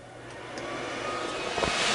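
A computer cooling fan on a Windows 8 PC spins up, its steady whirring hum rising gradually in pitch and loudness over two seconds, with no voices.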